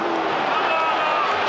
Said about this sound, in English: There was a big ooh from the crowd.